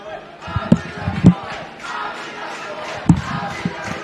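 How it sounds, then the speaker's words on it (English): A student section at a high school volleyball match between Ashland and Crater cheers loudly from the stands, a continuous roar of crowd noise broken by a few sharp thumps, with voices shouting throughout. "the student section is just cheering them on"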